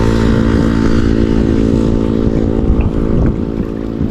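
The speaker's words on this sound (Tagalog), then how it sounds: "Wow, ganda ng motor niya" A motorcycle engine drones near a seaside pier, a steady, loud, low buzzing hum with a harmonic whine that holds throughout and eases slightly toward the end.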